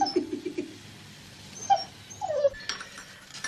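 A dog whimpers in short, high, nasal whines near the start, then gives a couple of brief yelps and a rising whine, fairly close amid quiet room noise.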